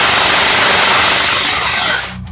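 A CYMA metal M16A4 gel blaster with a Solink 31k brushless motor fires full auto in one loud, rapid continuous burst, a whirring mechanical buzz that cuts off sharply near the end.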